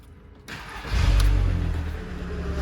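A car engine with a VR5 engine cranks and catches, rising into a deep, loud rumble heard through the exhaust that settles into a steady idle, heard up close.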